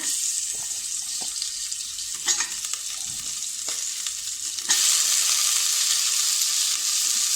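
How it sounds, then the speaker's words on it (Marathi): Mutton paya (trotters) frying in a pan with garam masala: a constant close sizzle with occasional stirring clatter that swells into a louder, denser hiss partway through. No one speaks. "त्यात आता आपण हे पाया टाकूया।"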